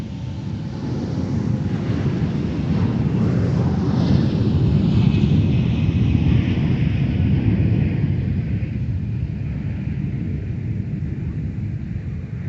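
A Lockheed C-130 military transport aircraft at the airport produces a steady, loud, low rumbling engine roar that swells and slowly fades, with no talking.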